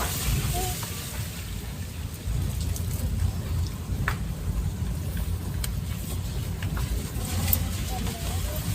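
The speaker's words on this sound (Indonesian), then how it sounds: "Hujan udah mulai reda ini ya" Steady rain falls throughout, a continuous broadband hiss with scattered droplet ticks and a low rumble underneath, close and moderately loud.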